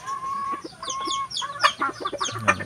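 Hens cluck in quick overlapping bursts from close range, a lively flock calling steadily for a few seconds with no voices.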